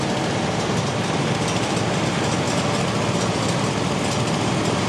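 Bolens GTX 20 garden tractor pulling a stone boat at a fair competition: a loud, steady engine roar close by, dense and unbroken with no clear change in pitch.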